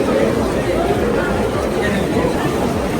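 Dense crowd chatter fills the Ikebukuro metro station in Tokyo, a steady, loud babble of many overlapping voices and footsteps with no single speaker standing out.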